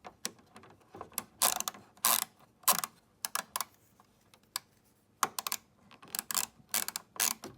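A hand ratchet works a 10mm nut under a plastic cover on a BMW 1 Series F20/F21 rear bumper, giving quick bursts of crisp clicking in uneven runs separated by short pauses, close and fairly quiet.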